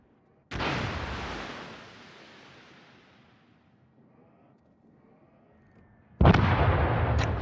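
Naval artillery salvos in World of Warships: a loud, booming broadside that rolls off over several seconds, then a second heavy blast near the end, with no voices.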